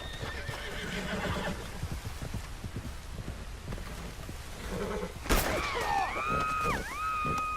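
In Red Dead Redemption 2, hooves clip-clop steadily under ambient noise, then a horse lets out a loud, clear neigh near the end.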